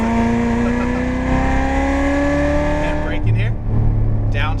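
A Corvette Z06 Stingray accelerates hard on a Las Vegas race track, its engine note climbing steadily in a loud, close in-car drone before a brief drop and renewed pull, with a voice talking over it.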